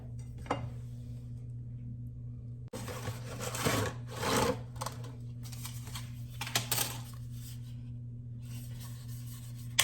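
Cheese being shredded for a crockpot lasagna makes uneven scraping rasps against a grater in short bursts over a constant low electrical hum.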